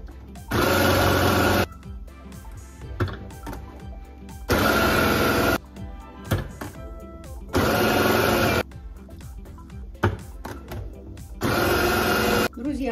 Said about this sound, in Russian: И натираем в процессоре